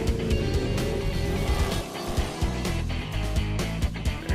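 A project car drives by loud and close, its engine roaring steadily with rises and dips in revs throughout.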